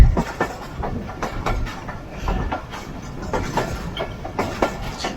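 A super parcel train being loaded and unloaded at a Pakistani railway station, with steady rumbling and irregular metallic clanks and knocks close by and no voices.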